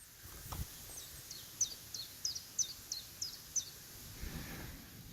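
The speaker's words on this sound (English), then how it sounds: "So I'm being serenaded by bird song." A small bird sings a quick series of about eight thin, high chirps in a steady rhythm, fairly distant, over a quiet outdoor background by a brook on a Northumberland trail.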